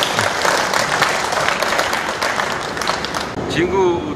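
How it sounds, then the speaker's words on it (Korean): An audience claps at a ceremony for the handover of rental farm machinery at an agricultural cooperative, dense applause filling most of the clip before thinning toward the end. "네, 큰 박수 한번 부탁드립니다."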